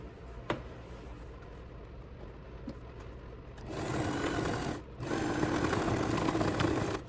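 A sewing machine runs in two short bursts, its motor whirring steadily as it backstitches over a seam on a fabric bag, with a brief pause between the runs.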